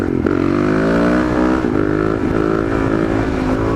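DRZ motorcycle engine held at high revs during a wheelie, a loud, close, sustained droning rev with slight pitch wavers and no pauses.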